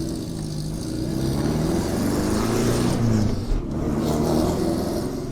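An older Volkswagen Karmann Ghia Type 34 engine revs close by, rising and falling in pitch with a rough, rumbling tone, loud and steady throughout.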